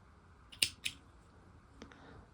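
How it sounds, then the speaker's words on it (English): Scissors snip crochet yarn for a simple granny-square coaster, two quick crisp cuts close by followed by a softer pair of clicks, quiet and alone. "Now you want to cut your yarn"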